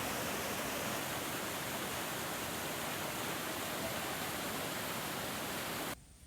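A snow-fed river at Doodhpathri, Kashmir rushes in a dense, constant roar of flowing water that fills the scene evenly and then cuts off abruptly near the end, with no voices.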